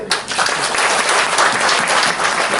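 An audience at a celebration programme claps loudly, a dense, sustained burst of applause filling the room at a steady level without letting up.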